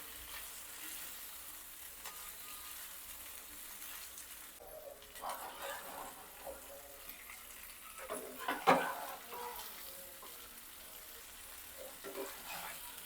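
River fish (shingada) frying in a pan over a high gas flame, a steady low sizzle throughout with louder bursts of stirring and spatter in the middle and near the end.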